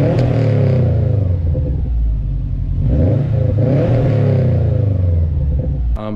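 A 2011 Subaru WRX with a modified exhaust revs up loudly and settles back with a deep, throaty exhaust rumble, close by, with no talking.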